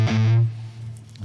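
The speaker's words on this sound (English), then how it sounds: "That's quite a nasty distortion." A short, heavily distorted electric guitar chord from a classic major-key rock riff rings out loud and close, then decays and briefly picks up again.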